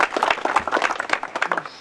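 An audience claps together at a 30th-anniversary gathering of the 'Šehid Resul' detachment of the 7th Muslim Brigade in Kaćuni. The applause is a dense, steady patter of many hands, close and lively, with no pause across its short run.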